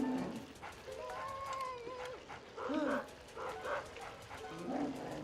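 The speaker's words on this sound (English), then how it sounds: "Okay, I just have to wait for the dog." A cartoon dog in the Luigi's Mansion video game gives short barks and whimpering yips at moderate volume over a low game background, with no speech.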